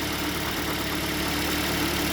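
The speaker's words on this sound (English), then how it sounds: "have a listen to the engine," Steady idle of a 2009 Toyota Corolla engine, a constant, smooth drone that holds at an even level throughout with no voices.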